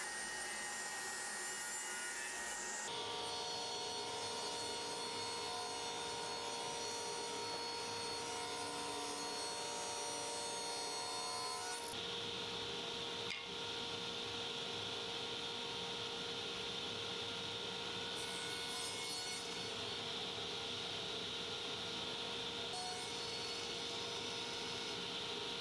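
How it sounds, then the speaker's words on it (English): A table saw rips wooden boards down to width for a classic storage bench, the blade's steady high whine running continuously and shifting in pitch as each board feeds through, loud and unbroken. "take them all over to the table saw and cut them down to their final width"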